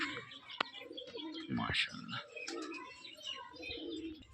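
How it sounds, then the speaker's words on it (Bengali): Pigeons, including a red tiger male with feathered feet, coo softly and faintly in the background, with a few chirps and a brief sharp click, while someone speaks over them. "এটা নর কবুতর, লাল টাইগার যাক বলে, মাশাআল্লাহ পায়ে ফেদারও আছে।"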